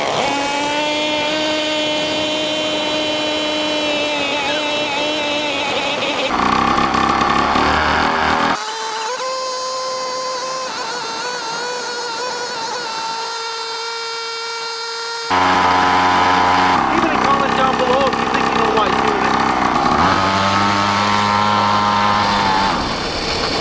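A homemade motorized scooter engine buzzes loudly nearby in separate runs. Its whining pitch rises and falls as the throttle changes, with abrupt shifts between stretches of running.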